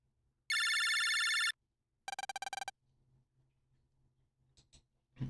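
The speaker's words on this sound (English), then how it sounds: "That was the fire alarm." A room fire alarm chirps electronically: a sustained, bright ringing tone lasting about a second, then a short burst of rapid pulsed beeps, loud and close, with faint rustling after.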